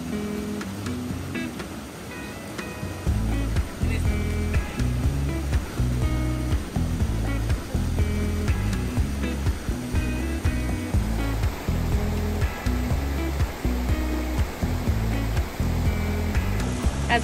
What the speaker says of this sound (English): As we walk through the water